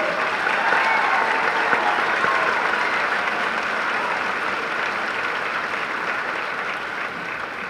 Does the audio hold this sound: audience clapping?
yes